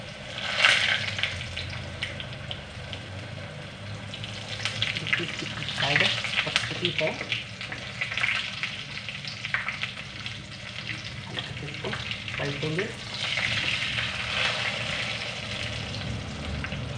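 Paratha stuffed with tomato and onion sizzling in a frying pan, a continuous crackling fry with occasional scraping or stirring bursts and some faint voice in the background.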